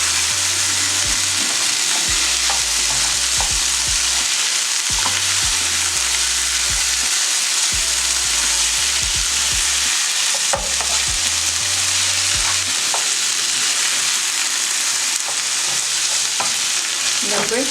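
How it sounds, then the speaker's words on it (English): Beef stirred while frying in a pot for a sweet potato and potato stew, a loud, continuous close sizzle with scattered scraping knocks from the spoon all the way through. "just keep stirring. Make sure that the meat is getting on well."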